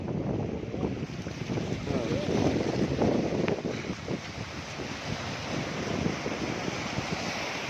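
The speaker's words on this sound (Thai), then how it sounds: "ข้างหน้าในกระแสน้ำไหลแรงมากเลยครับ" Strong floodwater current rushes past during a rescue trip through flooded fields in rural Thailand, a loud, steady wash of churning water mixed with wind buffeting the microphone.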